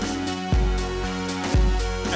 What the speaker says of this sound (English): Love the Roland Jupiter 4. Sounds great. It sounds like this.